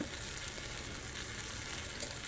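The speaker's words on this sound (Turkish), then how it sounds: "Domatesler kaynamaya başladı. Fokur fokur 1-2 dakika boyunca daha kaynatıyorum." A pan of tomatoes for menemen bubbles and sizzles steadily, a continuous soft crackling simmer close by with no voices.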